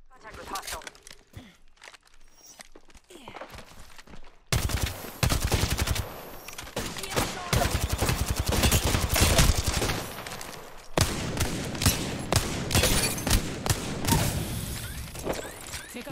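Rapid automatic gunfire from an Apex Legends match, dense bursts of shots that start after a quieter stretch and keep rattling loudly, with players talking over it.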